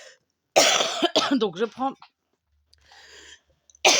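A woman coughs a few short, harsh bursts close by, with brief speech between them and quiet pauses around.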